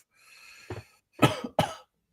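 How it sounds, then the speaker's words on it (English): A soft breathy exhale, then two sharp, loud coughs in quick succession, close by in a quiet room. "turn your head to the side and cough"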